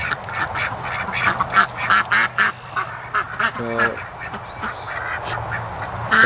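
Pekin and Rouen ducks quacking close by in a flock, loud repeated bursts of quacks coming and going, with a brief spoken word partway through.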